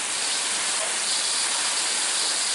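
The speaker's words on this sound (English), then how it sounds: "That's what you call a heavy rain." Heavy storm rain pours down steadily as a dense, unbroken broadband hiss, loud and close, with no voices over it.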